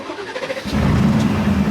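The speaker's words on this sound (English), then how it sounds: "Starting an Aston Martin race car." An Aston Martin race car engine starts up from inside the cockpit: a brief cranking whir, then a sudden loud, deep roar settling into a raw, rumbling idle, close and unmuffled.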